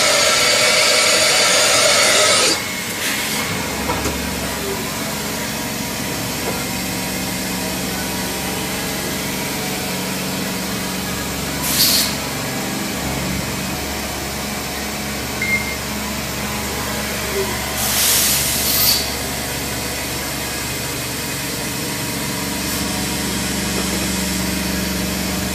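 A Mazak VTC-30C CNC vertical machining center runs with a steady mechanical hum and whine, after a loud burst of noise at the start. A few brief hissing swells break in over the drone.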